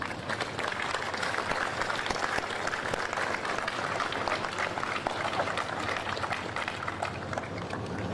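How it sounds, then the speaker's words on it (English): A large audience at a Memorial Day ceremony applauds continuously, a dense steady patter of many hands clapping together without pause, loud and sustained. "Applaud your neighbor, please."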